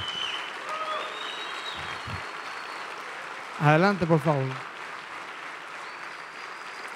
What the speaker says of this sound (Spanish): Más fuertes aplausos acá